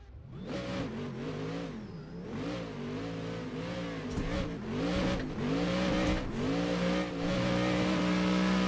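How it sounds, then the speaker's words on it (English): Loud drift car engine in a racing video game, revving hard and continuously with rising and falling pitch as it accelerates, a steady roaring drone throughout with no talk. "Oh my god, this car is so loud."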